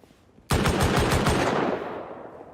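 A burst of semi-automatic weapon fire in the video game Rust starts suddenly: about seven rapid, loud shots in a tight rhythm, each with a sharp crack, followed by a decaying tail of reverb.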